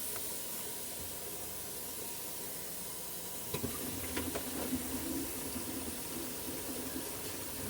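Water drains from a kitchen sink basket strainer, a soft, steady hiss and rush with a few brief gurgling bursts partway through, quiet and with no voices.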